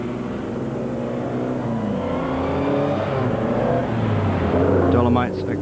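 Classic touring race cars at Mallory Park, among them a Jaguar XJ12, drone past in a steady, loud stream of engine noise, with a commentator speaking over the track sound.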